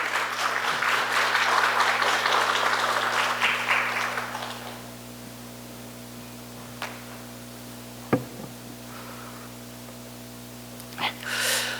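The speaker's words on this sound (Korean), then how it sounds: "우리 박수로 맞이하도록" Applause from a church congregation welcomes a missionary at a Wednesday prayer service, loud and full for about four seconds, then fading into a quiet hall broken by a few isolated clicks and knocks.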